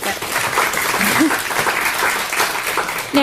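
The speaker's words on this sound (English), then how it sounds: "Clap, clap, clap." An audience at a magazine issue launch event applauding, a steady wash of clapping from a crowd that stays loud and even, with a brief voice rising near the end.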